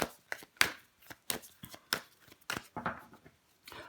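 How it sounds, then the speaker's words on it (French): Tarot cards set down one by one and covered over, producing a quiet series of soft, crisp taps and slaps on a tabletop with short pauses between them. "Je vais recouvrir des cartes pour vous les cancers."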